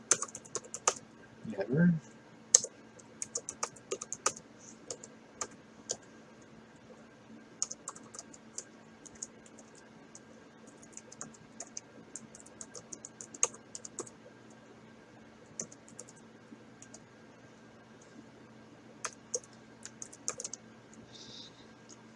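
Quick irregular keystrokes clatter on a computer keyboard while someone types commands to install Arch Linux with the Deepin desktop in VirtualBox, bursts of clicks with short pauses, and a brief spoken word early on.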